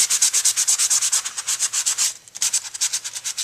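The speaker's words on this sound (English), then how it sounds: "And you can see it's sanding off the black, and it's showing the core color of the paper." A sanding block scrubbed over black-coated corrugated paper, a loud, steady back-and-forth rasp in fast, even strokes close up that pauses once briefly and then resumes.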